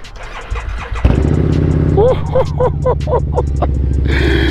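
A Harley-Davidson V-Rod motorcycle cold-starts with a starter whirr, then the engine catches and settles into a loud, close, rumbling idle with a few throttle blips.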